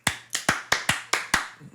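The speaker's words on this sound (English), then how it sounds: "Clapping." Hands clap seven times in an even, fairly quick rhythm. Each clap is crisp and sharp, close and moderately loud, with no talking between the claps.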